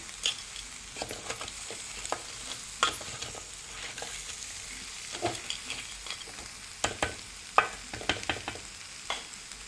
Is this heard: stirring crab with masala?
yes